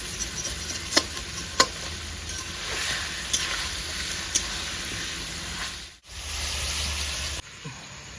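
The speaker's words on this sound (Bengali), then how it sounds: "পাঁচ সাত মিনিট একটু ভেজে নেব হালকা হালকা আঁচে ভাজতে হবে" Chicken frying over low heat for Lahori chicken, a steady close sizzle with occasional sharp clicks and scrapes of stirring, pausing briefly near the end before resuming.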